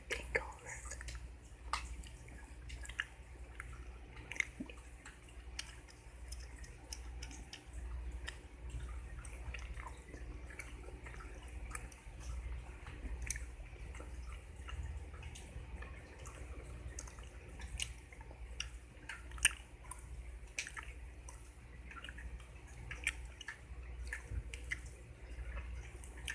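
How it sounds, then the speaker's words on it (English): Mint-flavoured gum chewed right at the mic, with soft wet smacks and clicks repeating steadily over a low hum. "The gum that I'm chewing is a mint flavored gum."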